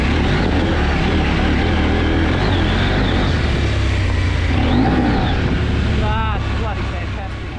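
A 2020 KTM 790 Adventure R climbs a steep, slippery gravel hill with slip control engaged: a loud, continuous engine drone with wind rush and shifting pitch that eases off at the end.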